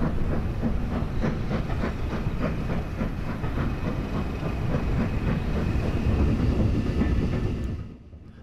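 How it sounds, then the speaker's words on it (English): LMS railway carriage bogie running over rails and points near Matlock, heard from the underframe: steady rumbling roll with regular clickety-clack beats and hiss, loud and close throughout before dropping away at the very end. "The ride was surprisingly smooth as the carriage rode over the points."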